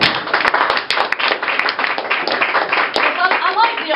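Audience applause breaks out at a live December event, a dense patter of many hands clapping steadily throughout, with voices talking over it near the end.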